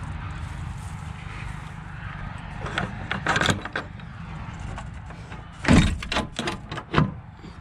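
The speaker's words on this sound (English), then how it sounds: "I'm gonna shut the door." A door is shut with a few solid clunks and knocks, followed a couple of seconds later by another sharp bang and a softer thud, moderately loud and close, with no talking.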